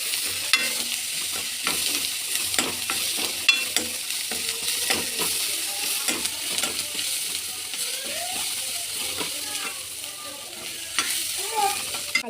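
Garlic and tomatoes sautéed and stirred in a pan for roadside-style green pea kurma: continuous light sizzle beneath frequent rhythmic scraping and clicking spoon strokes, close and clear, with no voices.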